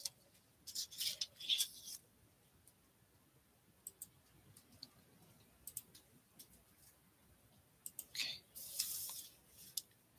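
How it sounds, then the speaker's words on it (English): Decorative scissors snip paper for Christmas crafts in short, crisp bursts close by, a few quick cuts near the start and another cluster at the end, separated by quiet rustling. "if you have decorative scissors, it would be very cool to pull those out and go ahead and cut one side"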